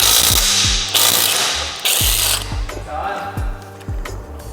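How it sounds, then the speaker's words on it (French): Ratchet loosening wheel bolts on a Dodge, rapid clicking pawl bursts repeated several times with short pauses, close and loud, while people speak in the background. "là c'est juste pour retirer des boulons"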